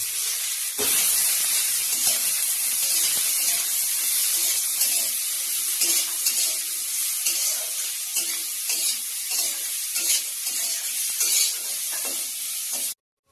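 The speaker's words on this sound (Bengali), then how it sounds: "এবার এরকম করে কেটে রাখা আলুটা কড়াইতে দিয়ে সুন্দর করে লাল লাল করে ভেজে নেবে" Cut potatoes fry in hot oil in a wok, giving a continuous bright sizzle broken by repeated soft scraping strokes of stirring, close by and without speech.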